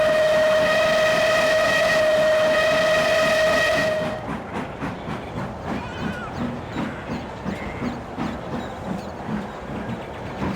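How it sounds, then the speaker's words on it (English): A loud, sustained steam engine whistle blows for several seconds at a station, then gives way to the rhythmic chugging of a train moving along the track. "with many engines and passengers cheering and whistling a welcome back"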